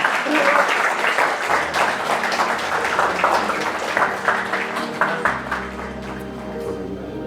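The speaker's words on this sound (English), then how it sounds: "Let's give a round of applause" An audience applauds a theatre performance at the Edinburgh festival, a dense roar of many clapping hands that starts strong and slowly thins, with some voices and low sound mixed underneath.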